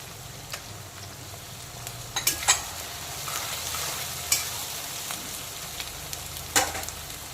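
Chopped onion, tomato and slit green chilies fry steadily in a pan for a green jackfruit and egg curry, with a constant close sizzle and occasional scraping stir strokes.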